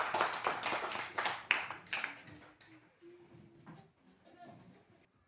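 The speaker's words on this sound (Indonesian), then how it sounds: "Tepuk tangan untuk teman-teman." Children and others in a Christian religious education classroom break into a burst of hand clapping that fades after a few seconds, followed by quieter voices and room noise.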